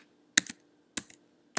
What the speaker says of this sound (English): I can type something in